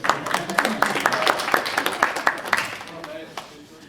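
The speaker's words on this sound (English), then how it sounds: "a big round of applause to our friend with the microphone" An audience at an energy policy talk gives a round of applause, a dense patter of clapping that fades toward the end, with some voices mixed in.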